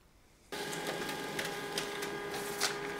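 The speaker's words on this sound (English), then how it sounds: "select the printer, your HP printer, and then press print." An HP LaserJet M140we laser printer starts up abruptly and runs a print job, a steady mechanical whir and rattle with small periodic clicks of paper feeding, close and continuous after a brief quiet moment.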